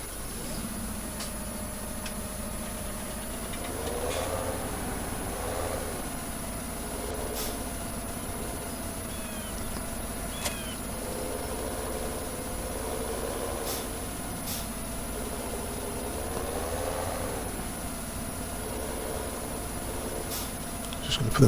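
A Fendt 900 tractor in Farming Simulator 17 hums with a steady low engine drone throughout, swelling gently at intervals, with faint clicks on top and no speech.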